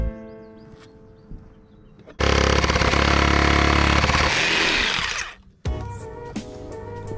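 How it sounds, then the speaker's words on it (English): Jigsaw cutting through a wooden board offcut, a loud, steady buzzing rasp that starts abruptly, runs for about three seconds and cuts off, with quieter shop noise before and after. "And since we're using the jigsaw,"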